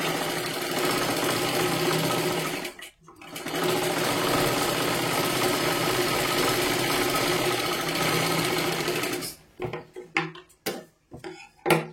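An electric sewing machine runs steadily, stitching a sleeve onto a princess-cut blouse with a loud continuous whirring hum, pauses briefly, then stops into a few uneven bursts and handling clatter near the end.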